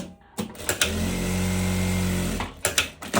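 A domestic sewing machine stitches the side seam of a summer dress's ruffles in one steady run of about a second and a half, its motor hum loud and even, with brief handling clicks before and after.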